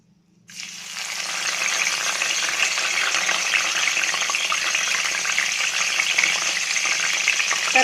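Curry leaves sizzle sharply after dropping into hot oil, a dense, steady crackling frying sound that starts abruptly and holds loud and close, with no talking.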